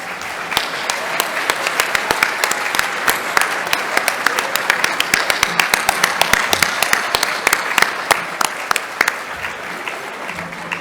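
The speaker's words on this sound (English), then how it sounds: "let's give them a big round of applause" An audience at an awards luncheon applauds with dense, steady clapping that stays loud and even for about ten seconds, with sharp individual claps standing out close by.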